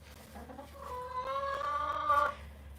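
Chickens kept by a backyard keeper give a drawn-out clucking, rising call, fairly faint and close, lasting about a second and a half over a quiet low hum.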